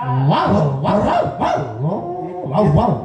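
A person's voice imitating a dog, giving a run of loud, close, rhythmic barks and yelps with growly, voiced tones, about five or six in quick succession.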